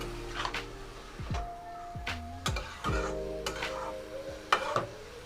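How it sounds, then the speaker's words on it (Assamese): Banana flower frying in a pan over a raised flame, with a soft sizzle under repeated scraping and stirring clinks of a utensil against the pan, close and fairly quiet. "অলপ সময় এনেদৰে মই ভাজি থাকিম"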